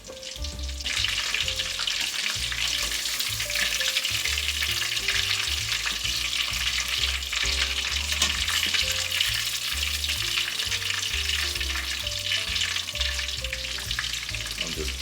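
Shrimp deep frying in hot oil on a home stove make a loud, continuous bubbling hiss over a low rumble, steady from start to finish with no talking.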